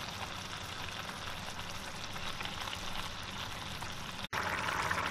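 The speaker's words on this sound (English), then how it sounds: "I have added the remaining water where I've rinsed the bowl that the chicken was marinating in, and I've added to this" Water pours steadily into a pan of chicken being cooked for Guyanese chicken fried rice, a continuous close hiss with no talk.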